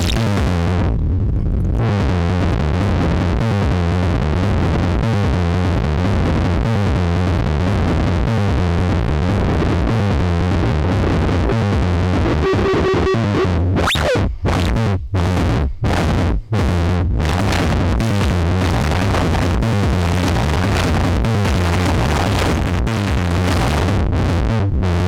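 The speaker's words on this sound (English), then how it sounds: "If we switch over to distortion out, though, it does." A Schlappi Engineering 100 Grit module's distortion output snarls as a thick, buzzing, harsh drone that shifts midway into choppy stuttering bursts, loud and unbroken throughout.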